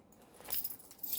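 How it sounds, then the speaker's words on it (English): Keys on a clip jangle from a jeans pocket, a brief, faint metallic rattle of a few soft jingles with no talking. "keys I have on a clip and in my jeans pocket so that they're on a bit of cord"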